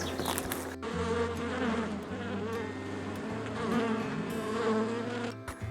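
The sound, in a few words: honeybees buzzing around an open beehive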